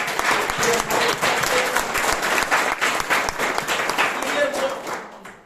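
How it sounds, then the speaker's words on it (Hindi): A hall audience at a business training session in Asansol gives loud applause for the company CEO, steady crowd clapping for several seconds before tapering off. "मैं उनके लिए एक जोरदार ताली चाहूंगा"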